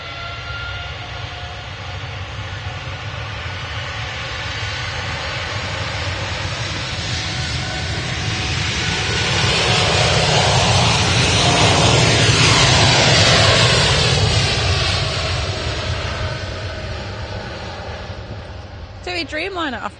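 Boeing 787 Dreamliner jet departing, a loud broad engine roar that swells to a peak midway and then slowly eases, heard close outdoors with a brief voice at the very end.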